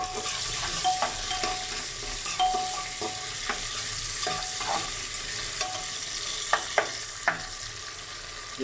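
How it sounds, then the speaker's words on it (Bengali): Salted onion sizzles in a pan for a chicken gizzard and liver dish. An even frying hiss runs throughout, broken by repeated scraping knocks as a spatula stirs, with a few sharper clacks toward the end. "পেঁয়াজটা লাল হওয়া পর্যন্ত আমাকে নাড়তে হবে।"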